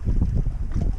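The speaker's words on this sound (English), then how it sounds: "the wind's picking up" Wind blowing hard across a small yellow sailboat under sail, a steady close rumbling buffet on the microphone with gusty pulses and water noise beneath.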